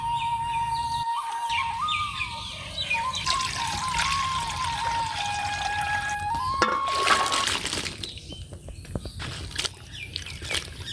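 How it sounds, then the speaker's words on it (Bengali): Cut ridge gourd pieces rinsed clean with water in an outdoor village kitchen, a steady pouring, trickling wash with splashes, birds chirping and calling in the background throughout. "তরই কাটা হয়ে গেছে, এবার পরিষ্কার করে ধুয়ে নেব।"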